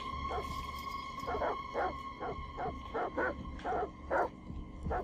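Dogs in the video game Detroit Become Human bark in a quick run of about eight sharp, fairly close barks, evenly spaced over a constant low background hum.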